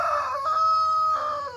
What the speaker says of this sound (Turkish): Anne, horoz dışarıda